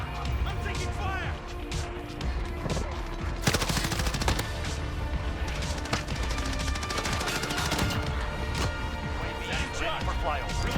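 Heavy gunfire in a military shooter game, rapid bursts and automatic fire rolling on continuously with loud impacts, while players talk over the shooting.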